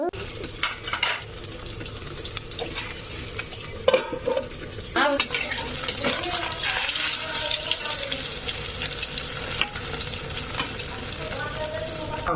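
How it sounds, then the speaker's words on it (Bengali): Three eggs frying in a pan, a steady close sizzle with occasional scrapes and clinks of a spatula running throughout. "এই যে তিনটা ডিম ভেজে নিচ্ছি খিচুড়ি দিয়ে খাওয়ার জন্য ডিমগুলো ভেজে নিচ্ছি"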